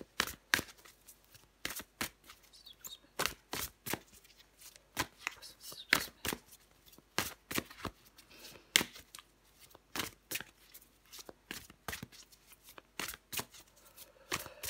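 Tarot cards being shuffled and drawn, a long run of crisp, close riffling bursts and slaps repeating every second or so, with brief quiet gaps and faint murmured talk.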